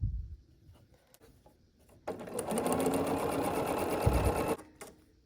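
A sewing machine stitches pumpkin block pieces for an autumn table runner, running steadily for about two and a half seconds after some quiet handling noises, then stopping.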